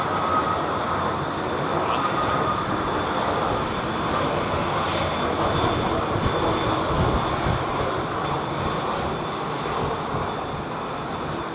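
An Emirates airliner departs Heathrow, a loud continuous jet engine roar with broadband rumble holding steady throughout, no talk over it.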